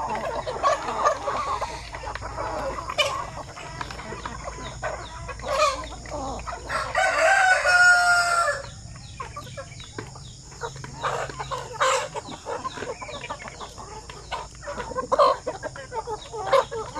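Meat-type chickens cluck continuously nearby in a range area while a rooster crows loudly partway through, with more scattered clucks and calls around it.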